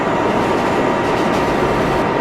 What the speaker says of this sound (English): This is a Krypton-bound 7 train.